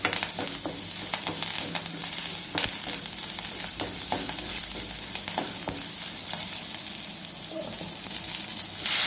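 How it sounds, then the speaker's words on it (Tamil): Onions sauté with asafoetida in a pan for a drumstick dish, a close crackling sizzle with frequent spatula scrapes and taps throughout. "கொஞ்சம் பெருங்காயத்தூள் போட்டுக்கலாம் போட்டுட்டு நல்லா வெங்காயம் வதங்கட்டும்"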